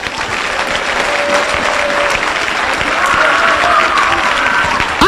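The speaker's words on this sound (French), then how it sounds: "Acclamez Jésus" A church congregation claps and cheers loudly and steadily throughout, with voices mixed into the sustained applause.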